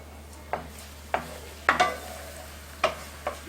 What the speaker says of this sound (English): And I am one who constantly stirs my scrambled eggs